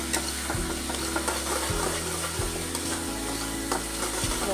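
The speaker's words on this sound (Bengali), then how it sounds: "মশলাটা ফ্রাই হয়ে আসলো" Spice paste frying in a pan for ghugni, a steady sizzle with rhythmic scraping and stirring strokes, close up and with no voices.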